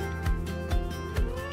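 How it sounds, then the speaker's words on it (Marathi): A cat meows three times in close succession, each cry loud and near, with steady background noise in between. "मित्रांनो हे मांजर काल पण इथं होतं"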